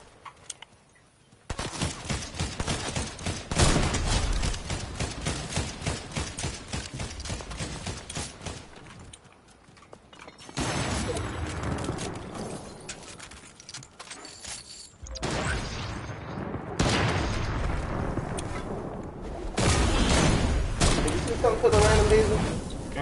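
Rapid bursts of gunfire in the video game Fortnite, long dense volleys separated by short pauses, loud and close, with voices talking over parts of it.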